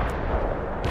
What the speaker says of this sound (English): Our barrage hit the target.